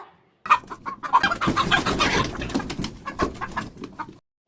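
Chickens clucking and squawking in agitated bursts as a red rooster is grabbed, loud close flurries of calls and flapping noise, then stopping abruptly.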